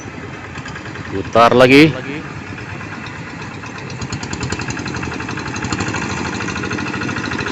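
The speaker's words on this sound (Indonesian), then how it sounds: "dengan traktor tangan semua proses persawahan akan jadi mudah" Small single-cylinder hand tractor engine used for rice-field work, idling with a steady low knocking chug throughout, briefly overlaid by a short spoken phrase near the start.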